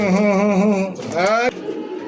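Restless caged pigeons give drawn-out, wavering coos up close, two long calls in a row, followed by a sharp knock and a low murmur.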